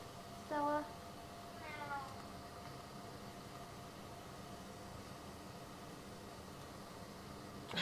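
Two short, raspy cat meows, one after the other near the start, followed by quiet background hum and low noise.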